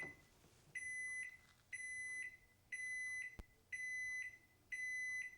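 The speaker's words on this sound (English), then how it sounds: "you get 5 tones for your timer there when it finishes." A series of five evenly spaced electronic beeps, clear and moderately loud, from a Farberware microwave timer finishing, over quiet background.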